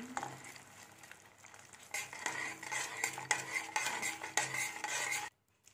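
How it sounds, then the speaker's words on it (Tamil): Peanuts being stirred into a tamarind puliyodharai mix in a pan, temple-style, giving steady scraping and clinking strokes with a faint sizzle for about five seconds before stopping abruptly. "வேர்க்கடலை ஆட் பண்ணி நல்லா மிக்ஸ் பண்ணிக்கலாம்."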